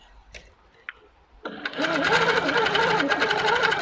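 A sitdown longarm quilting machine starts after a few light clicks and then stitches in a loud, rapid, steady mechanical whir at 12 stitches per inch.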